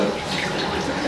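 Running water rinsing a face scrub off at a sink, a steady close splashing hiss lasting about a second.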